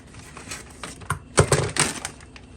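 Scissors snip and crackle open a plastic bag of strawberries in a home kitchen while a strawberry daiquiri is being made: a few sharp, close cutting clicks and crinkles, no voices.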